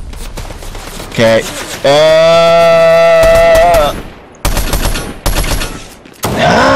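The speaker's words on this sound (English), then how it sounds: "There's a guy right here that I'm shooting." Rapid bursts of gunfire in the video game Fortnite pop out in short clusters between loud voices and tonal game sounds, with someone briefly speaking.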